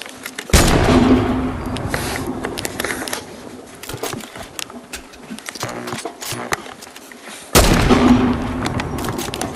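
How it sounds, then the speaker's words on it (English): Gunfire in a shooting video game: two loud, sharp bursts of shots, near the start and again late, with scattered quieter weapon noises and game effects between them. "I shoot them and I give thanks for playing."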